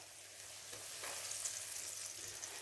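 Steady oil sizzle and crackle from flour-coated eggplant frying in a pan, close and continuous.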